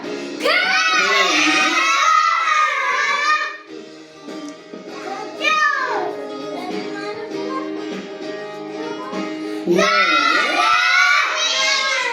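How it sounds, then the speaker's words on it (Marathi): Children in a first-grade primary school class shout and yell together loudly in bursts, a crowd of young voices rising, fading briefly, then surging again near the listener. "ओरडू नका मागचे"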